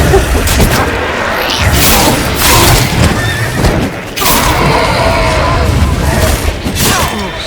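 Roach, the horse in The Witcher 3, neighs loudly and close in repeated whinnies over busy game sounds, with faint hoof clatter and booms in the background.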